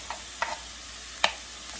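Sliced sweet pepper tipped into a pan of stewing vegetables for buckwheat with mushrooms: a few soft, sharp clatters over a faint steady sizzle, with the loudest clatter near the middle.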